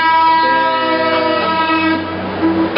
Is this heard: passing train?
yes